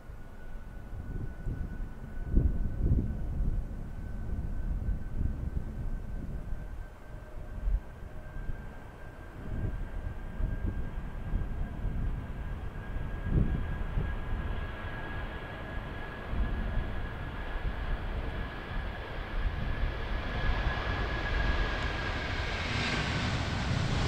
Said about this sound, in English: Yeah, quite a late takeoff.